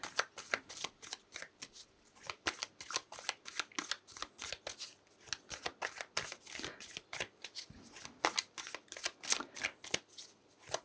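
Tarot cards shuffled continuously in the hands, a dense run of crisp riffling snaps and soft slides, close and fairly quiet with no talking.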